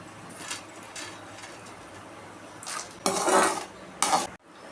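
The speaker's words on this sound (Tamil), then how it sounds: "இதோட கொஞ்சம் வேர்க்கடலை, வறுத்த வேர்க்கடலை தான் இது, அதையும் போட்டுக்கலாம்." Peanuts and chana dal roasting in a pan give dry rattling and clattering, soft at first, then louder bursts of metal spoon scraping near the end before it cuts off abruptly.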